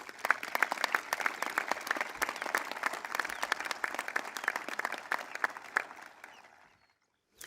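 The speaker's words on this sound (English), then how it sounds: "please join me in a round of applause for all of our local scholarship" Graduation ceremony audience at a high school applauds scholarship sponsors: many hands clapping in a steady crowd patter that holds for about six seconds, then fades away to silence, heard from a distance at modest volume.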